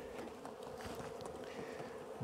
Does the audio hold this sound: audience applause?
no